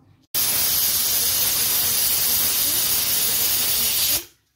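Steam hisses loudly and evenly from a pot of arhar dal and bottle gourd boiling with turmeric, oil and water, a sustained close rush that starts abruptly and fades out at the end.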